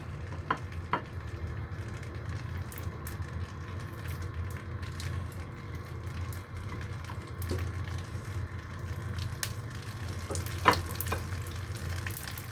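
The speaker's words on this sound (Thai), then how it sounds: "เราจะใส่แผ่นปอเปี๊ยะเข้าไปเลยจ้า เราจะทอดทีเดียวเลยนะคะ" Vietnamese spring roll wrappers filled with pork and glass noodles fry together in a shallow layer of oil, giving a steady, moderately loud crackling sizzle with a few sharper pops and faint clinks of utensils.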